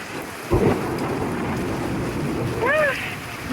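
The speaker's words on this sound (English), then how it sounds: "There's so much hail falling." Heavy hail falls outdoors on Gozo, Malta, a dense continuous hiss and rattle of ice striking the ground, with a louder burst early on and brief voices in the background.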